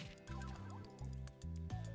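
Cartoonish birds cluck in the farming idle game Plantera 2, a few short, soft fowl-like calls repeating in quick succession over a quiet, tonal game background.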